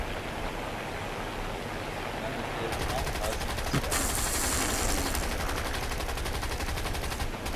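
Gunfire in the video game War Thunder, a dense, continuous roar of rapid automatic fire blending into a wash of noise that stays loud throughout, with a voice talking over it.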